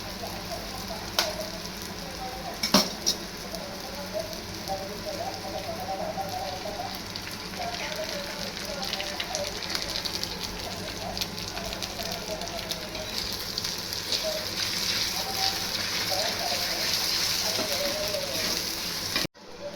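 Eggs fry for egg bhurji in a hot pan with a continuous crackling sizzle that holds steady throughout, broken by a couple of sharp clicks.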